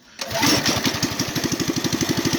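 A Predator 212cc small engine fitted with a cheap custom exhaust pipe runs loudly and steadily, its rapid pulsing exhaust chugging close by after a sudden start.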